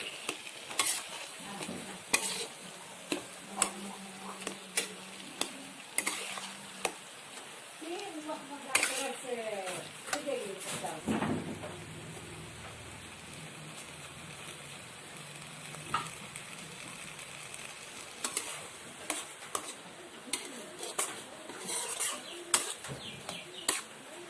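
Boiled taro being stirred and fried in a pan, with scraping and clinking of a utensil against the pan in irregular bursts over a soft, steady sizzle, close up.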